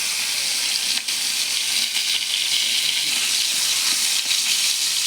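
Pieces of kawai fish being half-fried in a pan make a steady, dense hiss of hot oil, close and continuous, with a couple of faint knocks and no talking.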